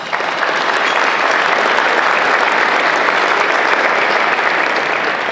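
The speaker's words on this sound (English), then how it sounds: "Please give our sponsors another round of applause." A large luncheon crowd at a county chamber of commerce event applauds sponsors with loud, sustained, evenly packed clapping that holds throughout without a break.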